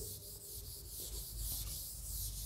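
A board being rubbed clean with an eraser, a steady scratchy rubbing in repeated strokes, close and fairly quiet, with no talking.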